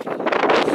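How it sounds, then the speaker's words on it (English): Strong wind buffets the microphone on a hiking trail in Devil's Garden, Moab, a brief, loud, rough roar of gusting air with no voices. "So windy, but it's awesome."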